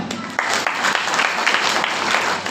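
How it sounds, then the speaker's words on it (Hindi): Applause from a congregation at a Sunday church service, a dense wash of many hands clapping that starts abruptly and holds steady and fairly loud throughout. "भाई के लोग ताली बजाते हैं"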